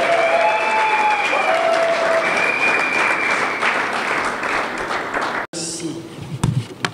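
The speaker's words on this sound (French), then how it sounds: "je vous prie d'applaudir" Applause from an audience in a hall at a party congress anniversary ceremony, dense steady clapping filling most of the clip before it cuts off, with a voice heard over it.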